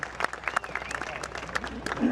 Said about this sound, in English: How about a round of applause for the rookie out of Pawtucket, Michael Cooper.